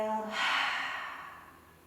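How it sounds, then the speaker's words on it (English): One slow breathy exhale during a mobility stretch, close and soft, swelling briefly and then fading out over about a second. "Exhale."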